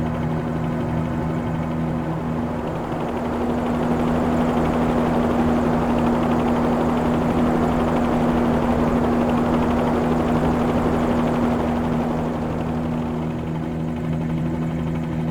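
A Bell 47-G2 helicopter in flight in Microsoft Flight Simulator 2020, a continuous droning rotor and engine hum with a steady pitch, swelling slightly in the middle, with no voices.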